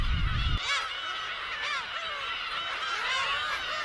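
A breeding colony of black-tailed gulls on Hongdo island calls loudly and constantly, overlapping honking, mewing cries from many birds after a short low rumble at the start.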